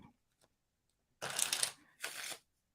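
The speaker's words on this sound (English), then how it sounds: "Let me just shuffle up the deck a little bit." A deck of playing cards is shuffled in two quick riffling bursts close to the microphone, separated by a short pause, in an otherwise quiet room.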